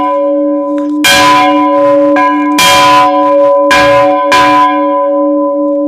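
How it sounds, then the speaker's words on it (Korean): An old church bell in rural Ganghwa-do is struck four times, each loud clang bursting out and then ringing on with a sustained, slowly fading hum that carries between strikes, irregularly spaced and close by, with no talking. "오래간만에 왔으니까 한번 종 쳐줘 볼게요."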